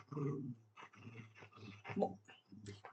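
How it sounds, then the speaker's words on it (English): Dogs play nearby with low growls, snorts and grumbling noises in rapid, irregular bursts. Fairly faint, with no talk over them. "My dogs have a playtime."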